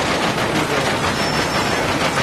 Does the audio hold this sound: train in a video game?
yes